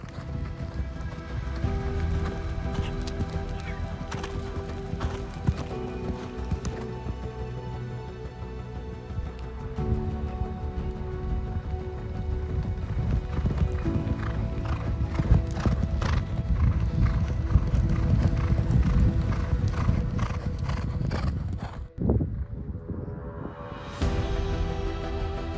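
A horse, one that likes jumping, trots with steady clip-clop hoofbeats close by, neighs a few times, and moves on across varied ground, with faint talk in the background.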